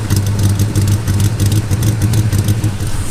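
A 1965 Pontiac GTO with a 389 cubic inch V8 idles close by, a loud, deep, lumpy burble with a steady throb and no voices over it.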